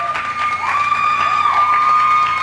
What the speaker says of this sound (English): Killer applause